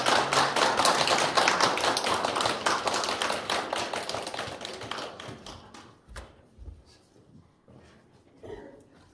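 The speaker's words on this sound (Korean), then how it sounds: "큰 박수로 우리 모시겠습니다" Church congregation clapping at a revival service, loud sustained applause that gradually fades, leaving a few scattered claps and soft thumps near the end.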